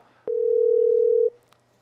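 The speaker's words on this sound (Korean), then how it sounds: "다시 한번 전화 연결해 보겠습니다. 신호가 가고 있는데요." A telephone ringback tone heard while a live broadcast dials a politician: a single steady electronic beep lasting about a second over faint line hiss, clear and close.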